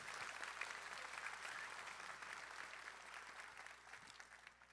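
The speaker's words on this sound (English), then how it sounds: "Another round of applause for Aaron Broderick." An audience at a school class night ceremony applauds a graduating student, a dense, even wash of clapping from a large crowd that gradually thins toward the end, with no talking over it.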